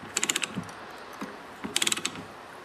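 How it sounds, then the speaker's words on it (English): A ratchet run counterclockwise while threading compressor pipe gives two short bursts of quick, crisp close-up clicks with a few scattered knocks between them. "what I do is I reverse the switch on the ratchet and go counterclockwise just to clean up the threads"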